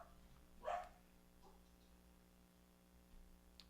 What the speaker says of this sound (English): So just ignore my dog if you heard her.